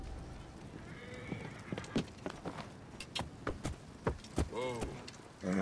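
In Assassin's Creed Origins, horses gallop with rapid rhythmic hoofbeats, their clopping growing louder and joined by a whinny and snorts, while characters speak over the running.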